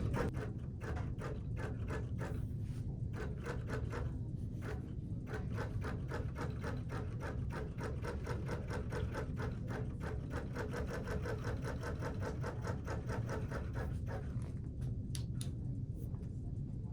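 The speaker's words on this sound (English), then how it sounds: "I'm going to press my go button, and now I'm going to gently go across the top of the quilt with the basting" A Q Series quilting machine basts across the top of a quilt, giving a steady, rapid mechanical stitching rhythm that runs continuously for the whole stretch, close and fairly quiet.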